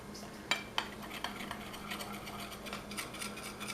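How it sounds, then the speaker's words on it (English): A spoon stirs confectioners sugar into whole milk in a small dish, with a couple of sharp clinks at the start followed by soft, quiet scraping and tapping close by. "Give it a stir."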